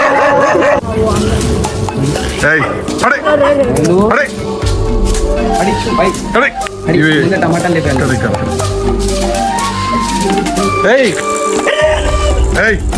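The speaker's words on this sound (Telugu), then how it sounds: "కుక్కలు కూడా అరుస్తున్నాయి" Dogs bark, yip and whimper repeatedly at close range during a noisy indoor challenge game between husband and wife, with lively talk over and between the barks.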